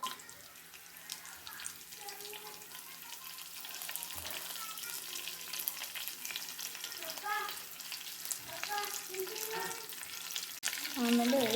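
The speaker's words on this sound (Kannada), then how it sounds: "ಕಡಲೆ ಬೀಜ ಚೆನ್ನಾಗಿ ಫ್ರೈ ಆಗಬೇಕು" Peanuts fry in a pan with mustard seeds, cumin and curry leaves for dadpe poha, a fairly quiet sizzle with stirring and occasional crackles, joined by running water from a tap and some faint background voices.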